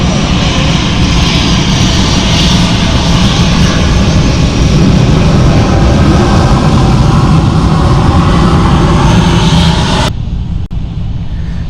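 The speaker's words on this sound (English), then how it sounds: "A340 Neo here of Lufthansa, and I like this because they wave at you." A Lufthansa Airbus A340 jet at Frankfurt Airport roars loudly and steadily for about ten seconds with a deep rumble and broadband engine noise, then cuts off abruptly to a quieter background.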